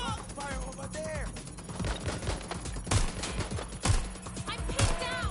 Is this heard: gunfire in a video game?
yes